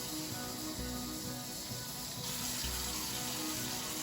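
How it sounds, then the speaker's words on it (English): One cup of water pours steadily from a tap into a pan of sugar for cranberry sauce, a continuous rushing splash up close with no pauses. "Going to add 1 cup of water"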